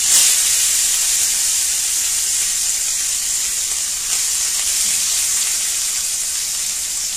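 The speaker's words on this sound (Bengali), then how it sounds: "তাহলে দিয়ে দিই মাছগুলো, হাত দিয়ে মাছ ছাড়ি। তেল ভয়ঙ্কর গরম হয়ে" Fish frying in very hot oil, a steady loud hiss and sizzle running throughout with no break and no talk.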